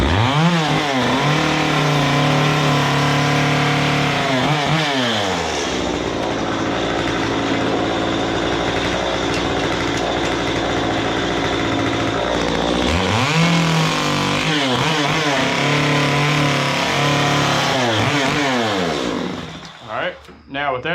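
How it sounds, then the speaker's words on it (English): A chainsaw carving a simple wooden feather, revving up and down in loud close bursts with a sustained cutting drone between, then dropping to idle at the end. "I'm gonna go ahead and make this cut on both sides"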